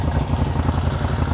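A CFMoto ZForce 950 Sport side-by-side with an 83-horsepower 950 V-twin idles steadily and close by, a low, even rumble with a faint pulsing throb and no speech.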